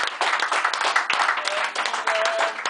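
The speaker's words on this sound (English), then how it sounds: "I'd like to give a round of applause for putting their time and effort into" A crowd at a football match gives a round of applause for the referees, steady dense clapping filling the whole stretch, with murmured voices mixed in.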